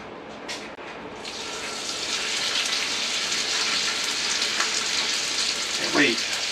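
Chunks of fresh moose meat and onion frying in a pan at a cabin, producing a steady, close hiss and crackle of sizzling fat that holds evenly throughout, with a brief faint voice near the end.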